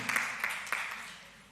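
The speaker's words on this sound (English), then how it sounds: "Please give her a round of applause." A small press conference audience applauds briefly and faintly, a few scattered claps in quick bursts that quickly fade away.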